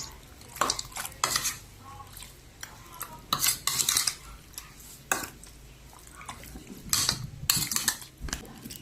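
Chicken being mixed by hand with oyster sauce and seasoning in a bowl for fried chicken, giving intermittent clinks and scrapes of utensil against dish with wet stirring sounds, fairly close and moderately quiet.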